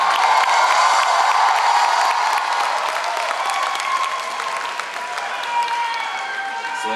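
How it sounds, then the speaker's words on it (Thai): A crowd at a wedding concert applauds loudly for the bride and groom, dense clapping mixed with scattered cheers that taper slightly over several seconds. "เสียงปรบมือและเสียงกรี๊ดต้องดังลั่นต้อนรับเจ้าบ่าวลเจ้าสาวครับ"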